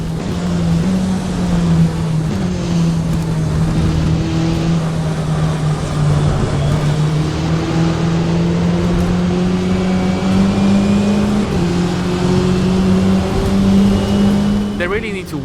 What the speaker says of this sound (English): They really need to work on the engine sounds